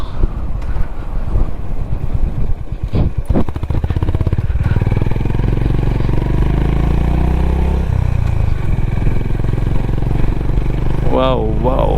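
A motorcycle rides along a road with many speed breakers on the way from Bengaluru toward Ooty, its engine droning steadily and loud with clattering bumps early on and wind rush throughout.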